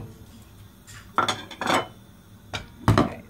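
Meat dropped into a pan without oil, a few scattered metallic clunks and scrapes of utensils against the cookware, fairly quiet and close.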